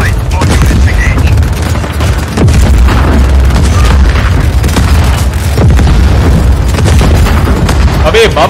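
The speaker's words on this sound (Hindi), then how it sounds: "अबे बम कौन फेंक रहा है यार" Loud, dense booming explosions from bombs in the Just Cause 4 action video game, rumbling continuously with scattered bursts and pops, with a voice talking over the chaos.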